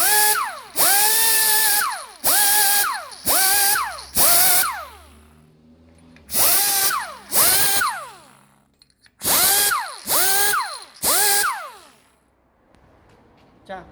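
An air grinder smooths the pitted surface of an engine tappet in about nine loud, whining bursts, each spinning up and then dropping in pitch, with short pauses between them.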